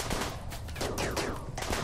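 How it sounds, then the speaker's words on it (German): Sniper rifles fire during a pirate raid in a RimWorld tropical colony, giving a rapid cluster of sharp shots and bursts that fill the whole short stretch. "weil die Scharfschützen schießen gleich alle nochmal"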